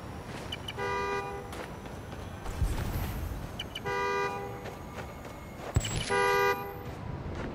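In the video game Marvel's Spider-Man: Miles Morales, a car horn triggered by a key fob toots in three separate bursts of about a second each, spaced apart, with a clatter of footsteps and street ambience between them.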